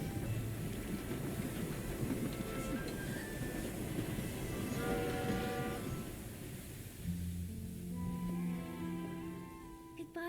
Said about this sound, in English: Look, the train is here.